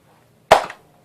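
A Nerf Rival Kronos blaster fires a single round, one sharp, close pop that decays quickly in a quiet room.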